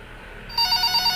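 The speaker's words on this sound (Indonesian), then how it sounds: "Telepon." A telephone in a hospital horror video game starts ringing partway through, a close, bright electronic trill pulsing rapidly over a faint background hum.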